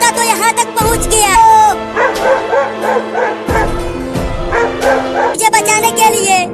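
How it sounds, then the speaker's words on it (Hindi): A dog barks and yips in a comedic desi skit, loud, repeated bursts with whimpering tones mixed with talking and shouting voices throughout. "अरे ये कुत्ता तो यहाँ तक पहुँच गया।"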